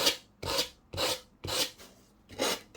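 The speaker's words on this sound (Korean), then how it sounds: "열심히 사포질 중" Rhythmic rasping strokes of sandpaper on wood, six back-and-forth scrapes at an even pace, close up with no voices.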